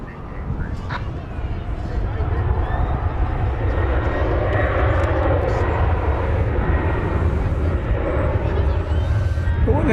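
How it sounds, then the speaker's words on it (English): A Boeing 737-800 jet at DFW Airport gives off a loud, steady roar that holds for the whole stretch. A voice is heard faintly over the engine noise. "it's a Boeing 737-800"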